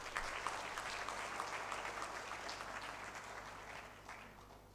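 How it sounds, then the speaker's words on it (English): An audience welcomes new undergraduate students at a university orientation with sustained applause, many hands clapping together in a steady, fairly distant roar that slowly fades toward the end. "Let's give all of you a big applause."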